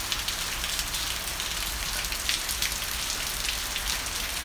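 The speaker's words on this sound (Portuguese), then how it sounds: "É muita chuva, pessoal." Heavy rain falls steadily at night in São José da Tapera, Brazil, a dense continuous hiss of drops pattering on surfaces, close and even throughout with no voices.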